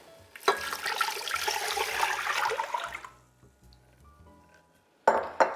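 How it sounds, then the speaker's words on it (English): Vegetable broth pours steadily into a soup pot for an oil-free potato and leek soup, a close, continuous splashing gush lasting a few seconds. It is followed by quiet, then a sharp clink of cookware. "So we're going to add our veggie broth in there."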